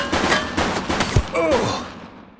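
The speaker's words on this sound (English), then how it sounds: "Shots fired!" Gunfire in The Precinct video game, a rapid cluster of loud sharp shots in close succession followed by a ringing tail as the burst fades out.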